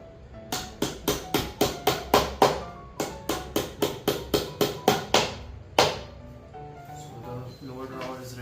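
A steady run of crisp hammer taps driving plastic nails into holes on an IKEA Kullen side table, close and even, around twenty strikes in quick rhythm with a short pause, then a softer faint rustle at the end.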